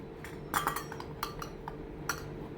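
A small wok, or kadai, is set down on a toy kitchen stove. Light metallic clinks and clatters come in a few sharp, separate knocks over a quiet background hum.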